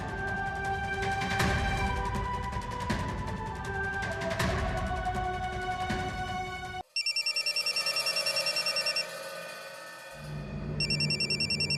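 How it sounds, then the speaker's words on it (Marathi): A telephone rings indoors in a repeating electronic pattern, loud and close, cutting in after a stretch of background music with no one speaking. "बाबांचा आहे, उचल फोन."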